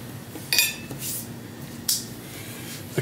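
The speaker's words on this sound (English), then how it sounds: "Let me take the lid off and show you." A lid comes off a crock pot of cooked corned beef and cabbage with a couple of light ceramic clinks and clatters, close and brief against a quiet kitchen background.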